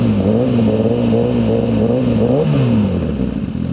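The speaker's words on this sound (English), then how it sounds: "So let's do a couple of revs and see." A Suzuki GSX-R1000R motorcycle engine revs loudly and steadily up close, its pitch rising and falling in a few swells with a rough, throaty drone throughout.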